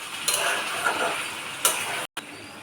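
Bahari chicken with half a lemon being stirred in a pan, a low sizzle under a few sharp scrapes and ticks of a spoon against the pan, close and moderately quiet, with a brief gap near the end.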